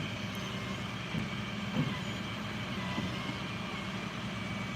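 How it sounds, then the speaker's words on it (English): A fire truck idles steadily at an accident scene, a continuous low rumble with faint mechanical hum and a few soft knocks, no voices over it. "Turn down the volume of the fire truck"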